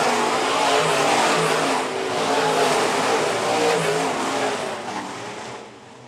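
Modified race cars on the dirt oval at Phillips County Raceway, a dense broadband roar of several engines passing, loud and steady before fading toward the end, with no talk.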